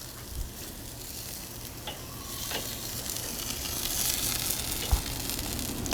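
Portabella mushrooms sizzle steadily on a hot grill with a few scraping clicks as they are flipped, a continuous close frying hiss without talk.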